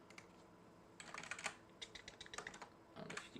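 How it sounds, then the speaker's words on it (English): Loud computer keyboard typing in bursts of rapid clacking keystrokes, close and clear, with short pauses between runs. "I don't know if you can hear how loud that keyboard is."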